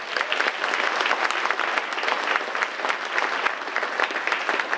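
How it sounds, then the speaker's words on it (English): An audience at an awards program for Mississippi's 25 most influential African Americans applauds its sponsors with a sustained, dense round of clapping that holds steady for several seconds, with no talk over it. "let's show our appreciation to our sponsors once again with another round of applause"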